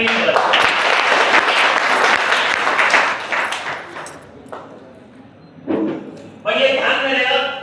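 A room of trainees claps for themselves in a loud burst of dense applause that thins out after about four seconds, followed by a few scattered claps and brief bursts of speech.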